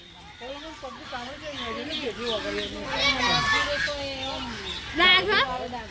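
Shrill, repeated bird calls and chirps overlap with one another, mixed with children's voices and chatter in a busy outdoor space.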